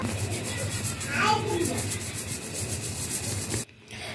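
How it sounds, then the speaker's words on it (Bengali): Rice flour is sifted through a sieve with a steady, close, soft rasping shake that stops abruptly near the end, with a voice speaking over it. "চালটাকেও আমি একটু ভালো করে চেলে নেব"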